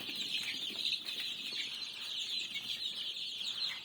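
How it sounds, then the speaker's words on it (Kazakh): A dense, continuous chorus of high peeping from a crowd of young hen chicks gathered in a brood area, steady and close throughout with no pauses. "тауықтың балапандары."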